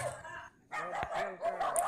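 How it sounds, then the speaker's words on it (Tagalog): Many dogs at a dog shelter barking in quick, overlapping yaps and woofs at moderate distance after a short quiet gap, with a whimper in the mix. "Yan mga aso sa loob niya."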